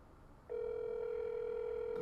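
A telephone line rings out while calling a Popeyes restaurant late at night, a steady continuous tone starting after a half-second of low hiss and holding evenly, no voices over it.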